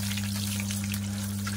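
Cashews for a prawn kachha biryani fry in oil in a pan with a steady, close crackling sizzle over a constant low hum, short and without speech.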